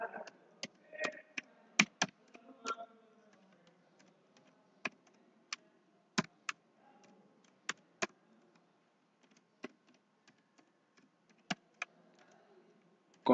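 Sparse, irregular keystrokes sound on a computer keyboard as a C program header file is typed, with crisp close clicks separated by pauses and a faint voice early on.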